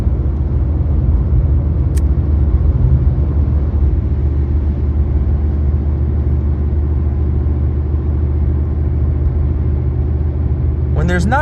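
A car drives along a winding country road in heavy holiday traffic, a steady loud low engine and road rumble from inside the vehicle, with a brief click early on and a short chirping sound at the end.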